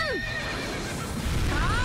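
A fiery horse neighs in the anime strategy game Sakura Wars 5, a sharp falling whinny followed by a rising cry, loud and close over a dense wash of battle noise.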